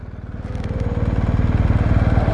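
A BMW R1250 GS HP motorcycle engine revs loudly and close by, its pulsing exhaust note climbing steadily and growing louder throughout, with no talking.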